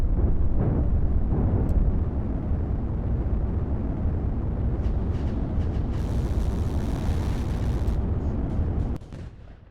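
Dense rumbling barrage of SAM missile launches and cannon explosions from the real-time strategy game Line War, loud and continuous with overlapping booms and crackling bursts, cutting off near the end.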